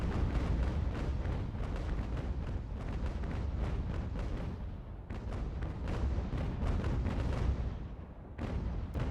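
Artillery fire in a real-time strategy battle on the Ultimate difficulty of an American Revolution game: dense, continuous rumbling barrages of booms and crackling bursts, a brief lull near the end, then more blasts.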